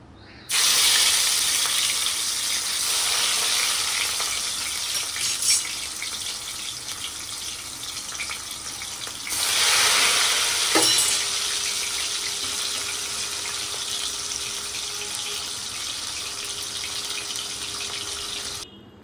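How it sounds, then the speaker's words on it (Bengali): Hilsa fish frying in hot mustard oil in a wok, a steady loud broadband sizzle that holds throughout and swells again partway through, with no talking. "এবার আমি আস্তে আস্তে মাছগুলিকে ভেজে নেব"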